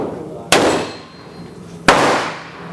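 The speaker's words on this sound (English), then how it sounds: "So let's go ahead and shoot the one in the pink circle." Ruger Super Blackhawk revolver fired at an outdoor range with a scope mounted, two loud sharp gunshots about 1.4 seconds apart, each followed by a ringing decay.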